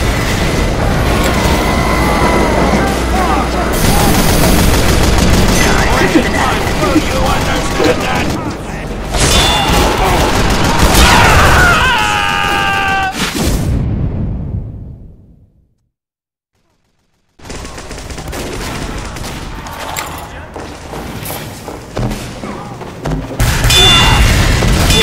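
Loud, chaotic gunfire and explosions from a Team Fortress 2 match, dense bursts and booms for about fifteen seconds, a brief silent gap, then the battle noise resumes.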